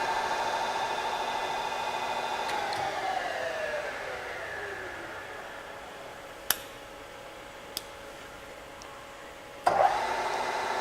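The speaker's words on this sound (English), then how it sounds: "It's about as quiet as it gets for a Bridgeport." A Bridgeport Series I EZ Trak CNC vertical mill in excellent condition runs with a steady, quiet mechanical whir and a falling tone as it slows, broken by a few sharp clicks and a clunk near the end.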